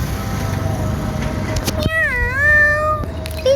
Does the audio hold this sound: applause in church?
no